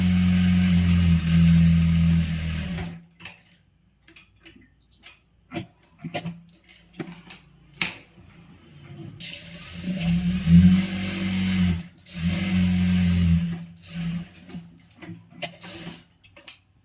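A sewing machine stitches a churidar side seam in bursts of steady whirring, running a few seconds, stopping amid small ticks and handling clicks, then starting again at close range.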